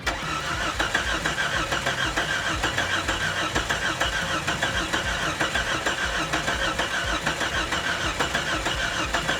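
An old Jeep Cherokee engine cranks and catches, then runs roughly at a steady idle with a slight pulsing throb, loud and close, with no one speaking.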